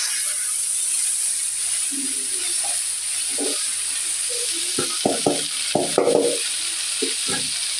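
Chopped cauliflower drops into a hot pan with coriander powder and spices, setting off a loud, steady frying sizzle. Clattering stirring knocks come close up near the end, with no talking.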